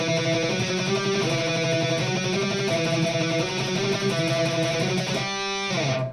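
Electric guitar playing a fast speed metal riff with rapid picked notes, loud and continuous, with a brief ringing stop near the end.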